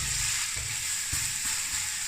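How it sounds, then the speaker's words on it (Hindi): Chopped onions fry in hot oil for a chicken curry, giving a steady, close sizzle with a few soft clunks from the pan and no talking. "ऑयल गर्म हो चुका है और साथ ही डाल देते हैं प्याज।"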